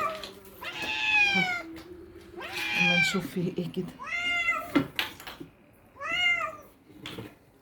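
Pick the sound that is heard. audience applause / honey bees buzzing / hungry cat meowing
hungry cat meowing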